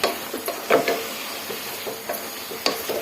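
Chicken pieces frying in oil in a pan for a chicken saaru curry, giving a steady soft sizzle broken by scattered sharp pops and crackles, close by with no talking.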